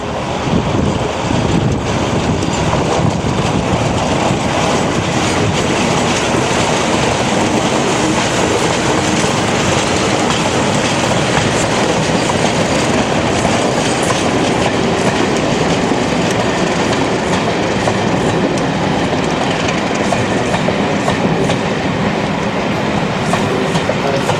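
A Type 3 diesel locomotive hauls the Roxby Renegade railtour train past in a loud, continuous rumble and rush of wheels, with wind buffeting the microphone throughout and no voices.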